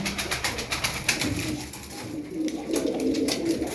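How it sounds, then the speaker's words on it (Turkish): Taneli çakmaklı pigeons coo softly and repeatedly at close range amid rustling and scattered clattering noises, with no talking. "Toplam 10 tane kuş var."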